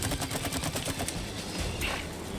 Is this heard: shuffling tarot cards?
no